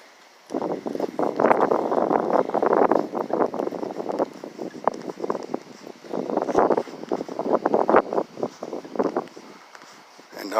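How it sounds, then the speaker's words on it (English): Gusty wind buffets the microphone in rough, rumbling bursts that rise and fall for several seconds, with no voices. "I will edit out all the windy parts"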